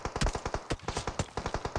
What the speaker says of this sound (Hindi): तभी मेरे ऊपर फायर करता है ये रैंडमली, इसको दिख नहीं रहा था बट स्मोक के आर पार मारने की कोशिश कर रहा था